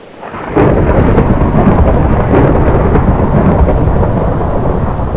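Thunder rumbles through a storm in the video game Minecraft, a loud sudden crack that swells into a sustained heavy roar mixed with rain hiss and holds strong to the end.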